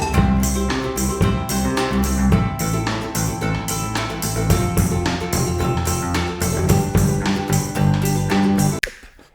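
A band of drums, bass amplifier and ukulele is captured with an XY stereo microphone pair, with punchy, regular drum hits over bass and strummed chords that play continuously and then stop abruptly.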